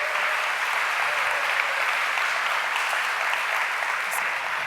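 Sustained audience applause at a fashion talk event, a dense steady wash of clapping that holds evenly throughout with no break.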